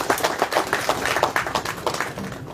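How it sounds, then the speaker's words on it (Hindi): A crowd at a railway workers' union gathering applauds a speaker with steady, dense clapping that fades slightly toward the end. "हम समझते हैं जोरदार तालियों से आप सबको उनका अभिनंदन करना चाहिए।"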